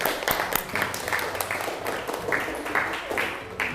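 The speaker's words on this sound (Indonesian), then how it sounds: "Sekali lagi tepuk tangan untuk kita semua." A school class claps in bursts of rhythmic hand claps, fairly close, with a voice heard faintly in the gaps.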